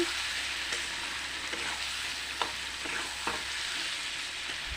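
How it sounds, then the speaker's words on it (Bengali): Spices fry in oil for a vegetarian pickle, giving a soft, steady sizzle. A spoon scrapes and taps the pan now and then as it stirs, and no one talks. "এখন কিছুক্ষণ নেড়ে চেড়ে"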